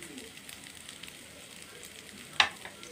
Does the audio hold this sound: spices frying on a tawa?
yes